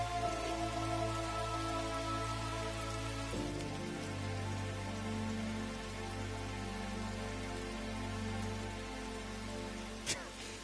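Steady rain in the video game Scarlet Nexus, a continuous hiss of drops on surfaces with a low ambient hum beneath and a brief sharper transient near the end.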